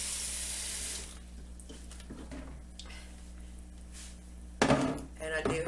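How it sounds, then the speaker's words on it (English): Tap water runs hissing into a cast iron skillet for cooking sausage, a steady rush for the first second, then quieter kitchen sounds and a brief clattering splash near the end. "I fill it about halfway with water."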